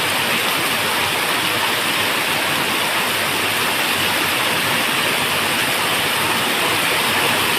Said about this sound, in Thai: เพราะว่าฝน เป็นอุปสรรค